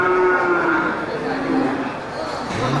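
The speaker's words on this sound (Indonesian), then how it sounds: "di bagian tengah juga terlihat nih banyak sapi Aceh dan sapi besar ya" Aceh cattle and other large cattle lowing at a busy livestock market, a long drawn-out moo rising over a constant crowd murmur with voices around.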